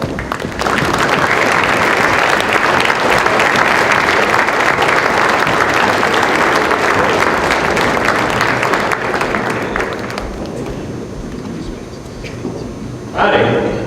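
Sustained, loud applause from a dinner audience welcoming a guest, a broad wash of many hands clapping that fades after about ten seconds, followed by a brief voice near the end.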